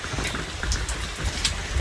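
Rain falls on a highland pasture, a soft steady patter with scattered brighter drops close by, heard alone without talk.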